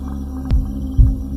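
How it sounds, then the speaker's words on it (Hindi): Fast heartbeat sound effect over a low steady hum: two heavy, deep thumps about half a second apart, loud and close, with no talking. "अर्नव का दिल तेज धड़कने लगता है"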